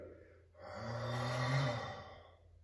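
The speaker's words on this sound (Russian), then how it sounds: "Пошел выдох." A long, steady exhalation accompanies a karate uraken uchi backfist strike, swelling to a breathy peak before tapering off, close and alone with no talk.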